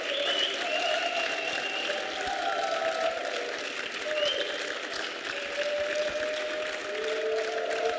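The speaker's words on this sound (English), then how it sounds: "Can we clap for them?" Congregation clapping during a church service, continuous applause under sustained sung or shouted tones and a musical backdrop, holding an even level throughout.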